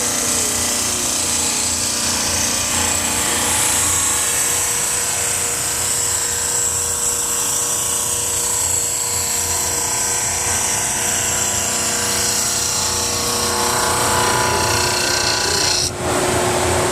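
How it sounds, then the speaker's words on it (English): A band saw runs continuously while cutting wood for a candle holder, producing a steady rasping whine and drone throughout, close and fairly loud. "Turn on the band, turn on the RPM a little bit on this, and send it through."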